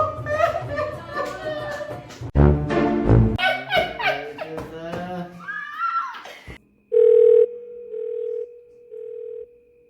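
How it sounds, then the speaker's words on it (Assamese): A mobile phone rings in a room among young men, giving a steady repeating electronic tone in short loud bursts after the lively talk stops. "তোৰ ফোন ৰিং হৈ আছে"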